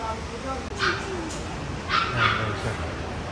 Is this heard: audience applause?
no